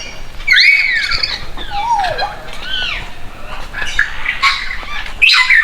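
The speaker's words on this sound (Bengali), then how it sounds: "কত সুন্দর টিয়া পাখি মিঠু মিঠু আসো আসো" A parrot at a safari park squawks repeatedly, loud and close, giving shrill rising and falling calls with short gaps, over faint outdoor background noise.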